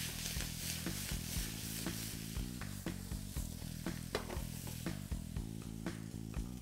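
Braised chicken legs sizzle steadily in a hot pan, a loud continuous frying hiss with occasional crackles, heard alone without talk.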